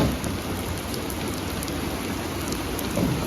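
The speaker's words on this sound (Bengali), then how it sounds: "ভালো লাগে না এত পরিমাণ বৃষ্টি হলে ভালো লাগে না" Steady, dense downpour of heavy rain drumming on surfaces, loud and continuous with no voices.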